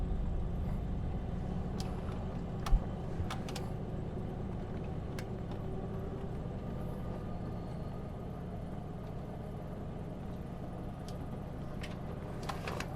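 A V12 Jaguar car backs up slowly with a low, steady engine rumble heard from inside at fairly faint level, one sharp click early on and light rattles scattered over the drone.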